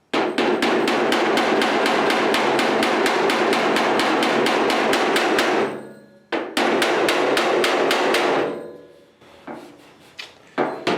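A hammer strikes a Mustang fender backed by a dolly while flattening a high spot beside an antenna hole, firing a rapid, steady run of loud, close metallic blows, then a short pause and a second burst before trailing off.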